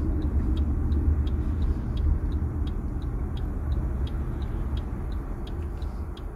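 Busy commercial-street traffic with many cars makes a continuous low rumble heard from inside a vehicle, accompanied by a steady faint ticking like a turn signal.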